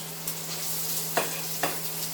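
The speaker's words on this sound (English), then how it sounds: "They're going to go into the pan. Sizzle is a good sound." Quiet, steady sizzling of chopped onions in a pan with a low hum beneath, broken by a few soft clicks and scrapes.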